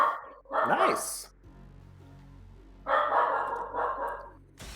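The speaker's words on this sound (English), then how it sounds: "I think I know what she's barking at." A dog barks in short bursts at the neighbors, loud and close. A few brief words are spoken between the barks.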